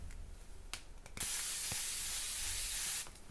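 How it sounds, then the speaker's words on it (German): A 200 ml aerosol can of sunscreen-scented body spray releases one steady, loud hiss lasting about two seconds, preceded by a few faint clicks and handling sounds. "Das ist natürlich eine Spraydose."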